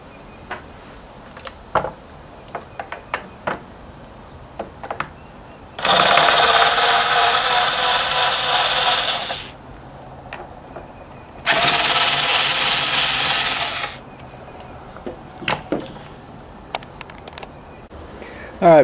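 Power screwdriver with a star bit backing screws out of a Neato Botvac 80 robot vacuum, two separate loud buzzing runs of about three seconds each, with faint handling clicks and taps between them.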